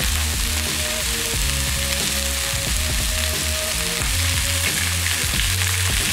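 Carrot, pepper and other vegetables sizzle hard in hot oil in a pan during a steak stir-fry, a steady bright hiss broken by scraping stirs and clatter, with no one talking.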